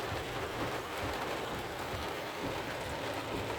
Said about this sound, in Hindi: अभी देखिए फिर बारिश शुरू हो गई